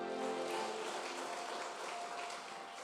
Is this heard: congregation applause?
yes